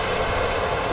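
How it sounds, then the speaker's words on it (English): A Ryanair aircraft operated by Malta Air, arriving from Billund, rumbles at Manchester Airport with a loud, steady engine roar filling the brief moment. "Ryanair from Billund, operated by Malta Air, this aircraft."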